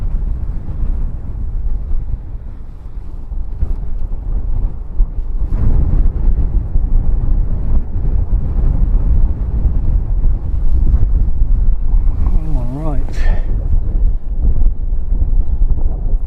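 Strong wind buffets the microphone outdoors at Christchurch Airport, New Zealand, a steady low roar that continues throughout, with a brief warbling tone rising near the end.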